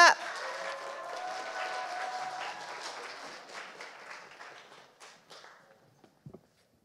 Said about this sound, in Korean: 저희 정치대회 조직위원회 공동집행위원장 홍명규 동지를 큰 박수로 모시겠습니다.